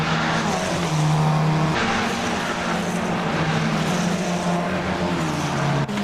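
An F4 race car at Laguna Seca in a racing game locks up its brakes, the engine's steady drone joined by sustained tire squeal and skidding tones across several seconds, loud and close with no talking.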